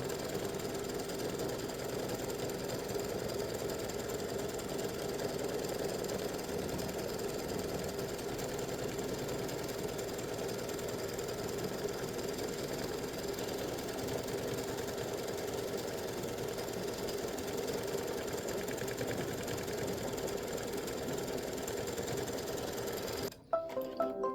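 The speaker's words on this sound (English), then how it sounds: "we finished the quilting part of it, or the background stitching" Sewing machine running continuously while quilting background stitching, a steady rapid mechanical whir and needle chatter at close range, unbroken for the full length before stopping abruptly at the end.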